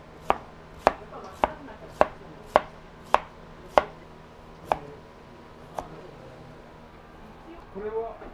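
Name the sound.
tapping shrimp flat with a knife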